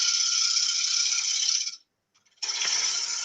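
A Coronet Herald wood lathe spinning at 1,133 RPM gives a steady, close, high rattling whir that drops out to near silence for a moment, then resumes at the same level.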